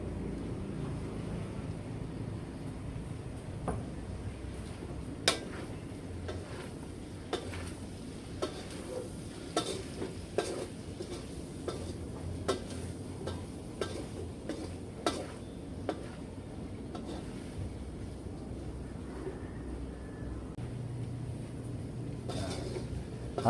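Bicol Express ingredients seasoned with crushed black pepper sautéing in a pan, a steady low sizzle with occasional light clicks of a utensil stirring and scraping, close and continuous throughout.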